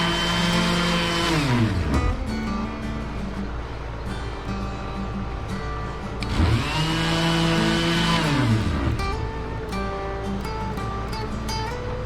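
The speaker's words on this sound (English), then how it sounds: "And you just go to town sanding" A Ryobi 18V cordless palm sander with a 4-amp-hour battery works over a sun-worn wooden deck handrail, a steady buzzing whir that swells and dips as it is pressed and moved, sounding alone.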